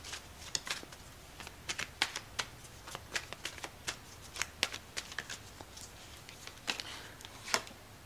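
Tarot cards being shuffled before a card pull, a quick series of crisp riffling snaps and soft flutters, close and fairly quiet, with irregular bursts spread across the whole stretch.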